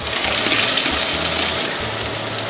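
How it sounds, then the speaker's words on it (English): Blended pepper pours into a cooking pot in a steady, close liquid rush with a faint low rumble underneath, lasting a few seconds. "So now it's time to pour the blended pepper in"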